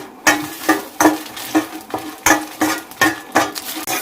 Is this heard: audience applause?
no